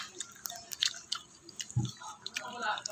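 Close, soft chewing and biting of fishball and kwek-kwek street food, with small wet squishy clicks scattered through, under quiet background chatter.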